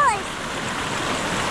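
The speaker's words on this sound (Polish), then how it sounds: "Idziemy przez rzekę." Steady rushing river water swirls close by as people wade across a river near Casaroro Falls on Negros Island, with a brief voice at the start.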